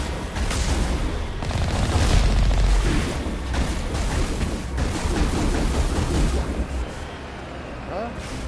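Rocket launcher blasts and gunfire in the video game Mass Effect, a dense, loud barrage of booming explosions and shots rolling continuously through the whole stretch.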